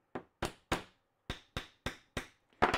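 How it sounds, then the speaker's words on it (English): A small mallet taps pallet wood while making a hand plane, in crisp, dry knocks, eight in all with short pauses, ending in a quick double tap. "There's my little mallet."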